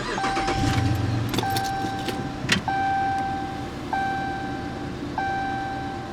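A 2015 Dodge Charger Police with a 5.7 HEMI and AWD cranks and fires up at close range, a short burst of engine noise among repeated electronic dashboard warning chimes that ring before and after.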